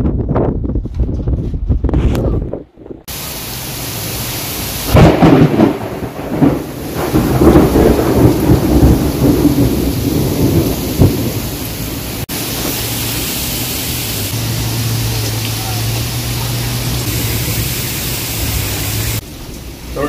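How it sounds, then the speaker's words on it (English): Heavy squall of rain and wind with thunder over a boat anchored just north of Biscayne near Miami, a dense steady roar of rain and gusts lasting throughout, loud and close, with no one speaking. "Big squall just came through. It's just finishing up."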